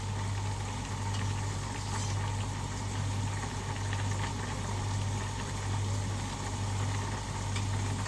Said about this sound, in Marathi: त्याला चांगली उकळी आली आहे